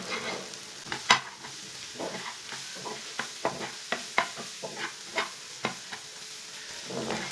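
Egg masala with tomatoes and chillies fries in a pan, giving a soft steady sizzle punctuated by sharp scraping and stirring clicks at an irregular rhythm, close and fairly quiet, with no talk.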